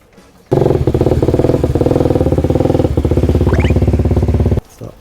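A motorcycle engine runs loudly and steadily at idle with a rough, throbbing rumble, starting abruptly and cutting off near the end, as the bike is loaded into a van.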